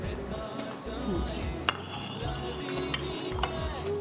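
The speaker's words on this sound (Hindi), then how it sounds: "मैं विस्क से इसको मिक्स कर लेती हूँ" A whisk clinks and scrapes against a bowl while mixing a salad mixture, a steady close rattle with a few sharper taps.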